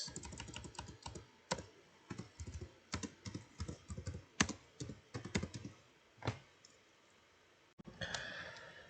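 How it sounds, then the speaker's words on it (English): Close-up keyboard typing in quick irregular bursts of clicks, with a short pause and a faint breath near the end. "So let me just finish typing this."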